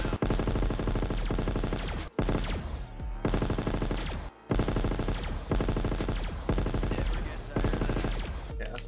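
Modded ray gun firing in Black Ops 3 Zombies, rapid sustained bursts of repeated energy shots in a dense rhythmic stream, loud and close, with two brief pauses.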